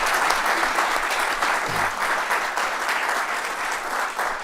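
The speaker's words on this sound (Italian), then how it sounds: "Vi invitiamo ad accoglierlo con un altro applauso" An Italian audience at a talk on free choice claps in a thick, even round of applause lasting the whole stretch, close and fairly loud, with no speech over it.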